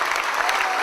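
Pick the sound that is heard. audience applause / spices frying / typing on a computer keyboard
audience applause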